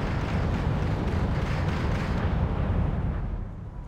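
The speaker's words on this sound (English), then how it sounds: "They start firing and take out a couple of Mi-24Ds" Marder Roland 2 air defense vehicles firing in Wargame: European Escalation, heard as a continuous, heavy roar of launches and explosive rumble that stays dense and loud before easing off at the end.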